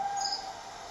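AI-generated jungle ambience with birds: a steady, faint bed of high insect-like trilling and a sustained tone, with a quick bird chirp early on and no talking.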